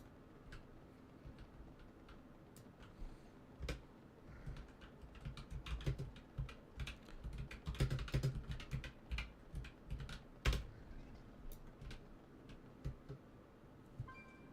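Computer keyboard typing, a long stretch of quiet, irregular clicking keys with dense bursts in the middle and sharper isolated taps, fairly close but soft, with no voices.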